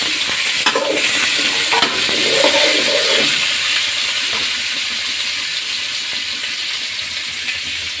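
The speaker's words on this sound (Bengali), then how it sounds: "মূলাগুলো ভেজে নিব লাল করে" Radish pieces fry in hot oil in a pan for a fish curry, a loud, steady hissing sizzle up close with a few stirring clatters early on.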